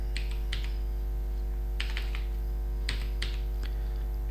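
Computer keyboard typing in short clustered bursts of clicks separated by pauses, close and fairly quiet over a steady electrical hum.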